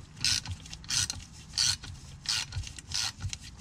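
An 8mm socket loosens the fuel filter bolt on a Ford Mustang GT350, a series of close, rhythmic ratcheting rasps that repeat roughly every half second.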